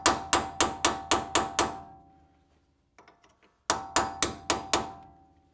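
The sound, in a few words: hammer tapping cold chisel to remove dust cap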